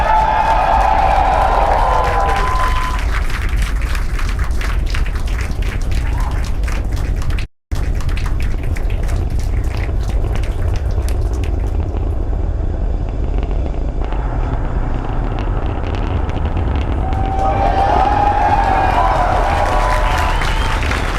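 Falcon Heavy rocket launching on the USSF-44 mission, a loud continuous broadband roar that holds steady throughout, with crowd noise and cheering swelling at the start and again near the end and a brief dropout partway through.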